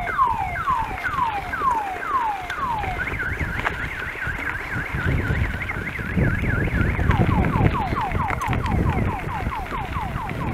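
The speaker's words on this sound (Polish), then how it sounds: "To się alarm uruchomił." An alarm at a construction site cycles through rapid warbling and whooping siren tones, including a police-style wail, loud and nearby over a rumbling outdoor background.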